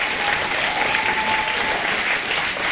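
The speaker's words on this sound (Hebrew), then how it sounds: "אפשר למחוא כפיים." Audience applause at a 2023 graduation ceremony, a dense, steady wash of many hands clapping that carries evenly through the whole stretch without pause.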